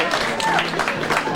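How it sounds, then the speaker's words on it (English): At a 50th wedding anniversary speech, guests break into a brief round of applause, a dense burst of clapping from a room of people. "How about a round of applause?"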